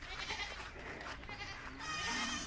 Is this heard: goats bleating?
yes